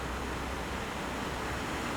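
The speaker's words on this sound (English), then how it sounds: "it's a really nice waterfall" A waterfall near a religious statue outside Budapest, Hungary, gives a continuous broadband rush of falling water. The sound is steady and moderately loud throughout, with no voices.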